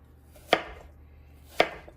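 A knife slices through a cored fruit, making two crisp, sharp cuts about a second apart that land on a board, close and clear against a quiet background.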